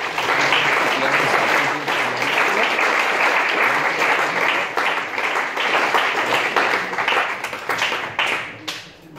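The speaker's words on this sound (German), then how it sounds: "Noch einmal einen großen Applaus für Macherjack" Sustained audience applause at a short film festival, dense and steady clapping filling the room for several seconds before thinning out at the end.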